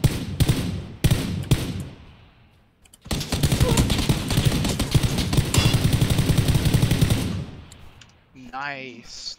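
Video game gunfire in an online duo match: a few single shots, then a long sustained burst of rapid automatic fire, fairly close, ending with a brief voice at the end.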